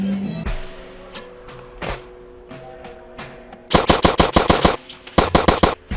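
Airsoft replica guns fire at an indoor CQB field in Stockton, California, with rapid, loud bursts of snapping shots in two close volleys after a few scattered thuds and faint voices.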